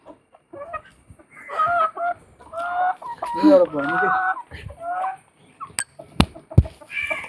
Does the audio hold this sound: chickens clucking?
yes